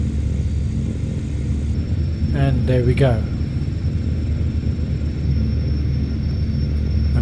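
A Saab 340 turboprop's left engine starting in the Prepar3D flight simulator, a steady rising engine hum and whine running underneath, as someone briefly speaks over it.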